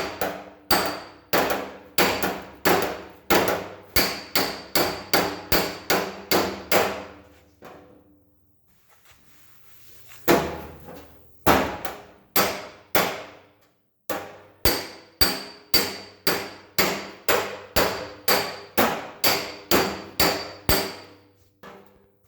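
Car body dents being worked out with a slapper, hammer and dolly: rapid runs of sharp metallic taps, about two per second, close and crisp, with a brief pause and one heavier clang midway.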